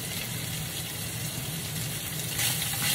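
Onions sauté in a pan at home, a steady close sizzle and frying hiss that runs throughout and swells slightly near the end.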